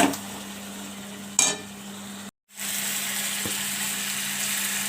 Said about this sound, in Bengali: বারবার খুঁজি দিয়ে নেড়ে এই আলু আর মাংসটাকে আরেকবার ভালো করে কষিয়ে নিয়ে